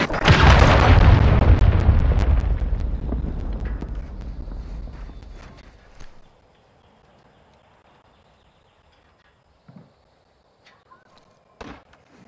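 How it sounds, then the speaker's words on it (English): Cruise missile strike in Call of Duty Modern Warfare: a huge booming explosion opens with a long rolling roar that fades over about six seconds, followed by near silence broken by a few faint distant thuds. "Cruise missile approaching target."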